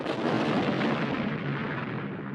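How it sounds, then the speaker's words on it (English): An enormous cannon explodes in one loud, booming blast that rolls on as a rumble and slowly fades. "The next morning, the Mexican army used the cannon. It exploded."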